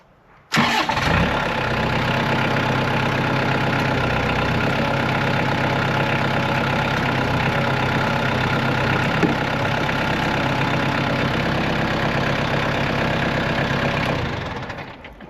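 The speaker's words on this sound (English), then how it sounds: "I'm going to start the tractor" After a brief quiet moment a diesel tractor engine cranks and catches, then settles into a loud, steady idle that runs until it cuts off near the end.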